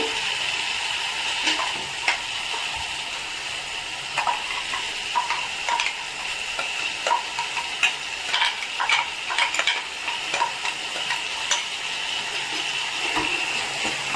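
Onion paste frying in a pan for a potato and pea curry gives a bright, steady sizzle, broken by repeated scraping taps of a spoon stirring it throughout.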